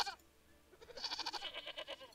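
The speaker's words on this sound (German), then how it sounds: "die Ziege hier, die jammert?" A goat in the Wildlife Park 2 video game bleats in a few quavering, wavering cries, fairly quiet and close, with no talk over it.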